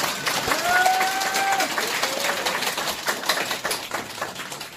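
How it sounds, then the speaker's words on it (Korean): Audience applause at a Korean political party rally, a steady, fairly loud wash of clapping lasting throughout, with a few whistle-like tones and scattered voices mixed in. "다시 한번 큰 박수 부탁드리겠습니다."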